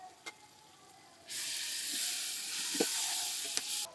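Masala with curd being stirred in a hot pan, a quiet start with a few knocks, then a loud continuous sizzle that swells abruptly and carries on with occasional sharp spoon clicks.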